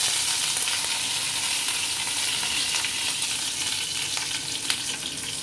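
Green chili and curry leaves fry in oil over lowered gas heat, giving a steady, close, dense sizzle throughout with faint crackles and no voices.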